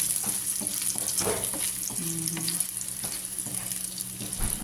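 Hotdog and beans sautéing in a pan, with a steady sizzle and intermittent stirring scrapes throughout, close and fairly loud, no talking.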